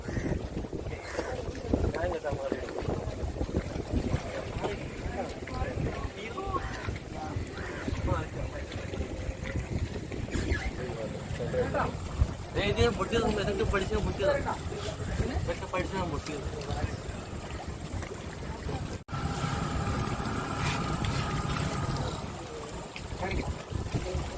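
A boat motor drones on water on a trip to Sambranikkodi Island, with wind buffeting the microphone and water sloshing along the hull, while people talk throughout.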